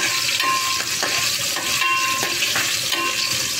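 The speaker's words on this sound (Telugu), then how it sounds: "ఈ రకంగా అయితే కొంచెం ఫ్రై చేసుకుందాం." Green chillies fry in a hot pan with a steady, close sizzle, broken by the scrape of occasional stirring throughout.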